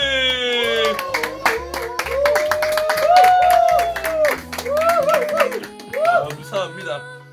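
A church youth group claps for a prize-draw winner, with sharp, close handclaps rattling throughout while a voice talks over them.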